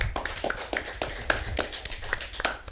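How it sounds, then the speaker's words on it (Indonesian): Scattered audience clapping at an Indonesian talk-show event, a few pairs of hands striking in uneven, separate claps rather than a dense roar, moderately close with no speech over it. "Tepuk tangan dong, keren banget."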